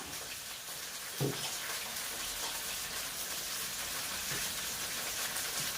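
Water drains and trickles off freshly cut and washed bell peppers in a home kitchen, a soft steady hiss with one small knock early on.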